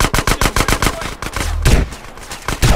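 Rapid automatic gunfire in GTA San Andreas during a sniper fight, a close, loud burst of evenly spaced shots followed by heavier reports and a few scattered single blasts.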